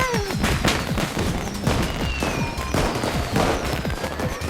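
Fireworks crackling and booming in a video game, a dense run of sharp bursts and pops with repeated louder blasts every second or so, steady and fairly loud throughout.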